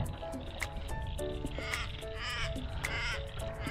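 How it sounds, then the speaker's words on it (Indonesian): Many birds call noisily at once, harsh repeated cries and chatter overlapping in a dense, busy chorus outdoors during a walk. "Tuh burung berisik banget tuh."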